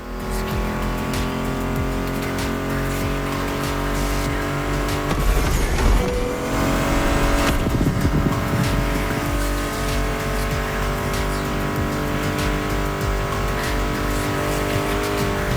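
Muscle car engines in the racing video game The Crew Motorfest drone and rev loudly and continuously, with tire squeal and a surge near the middle, mixed under a music soundtrack.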